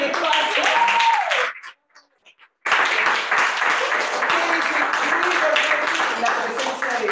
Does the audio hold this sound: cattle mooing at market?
no